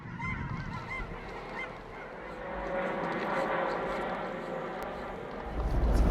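Sandhill cranes give repeated rattling, bugling calls from a flock at moderate distance, with a steady low rumble running underneath throughout.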